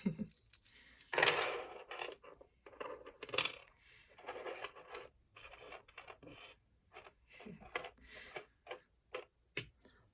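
A 1950s travelling souvenir charm bracelet made of coins jingles and clinks as it is laid out, with bright metallic rattles and a run of sharp separate ticks, close and fairly loud, and no talking.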